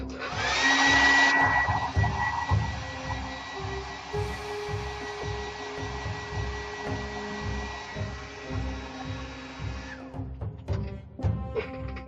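A hair dryer blows on glue-coated dreadlocks with a loud, steady whoosh that runs for about ten seconds, then cuts off, leaving a few light clicks and handling sounds.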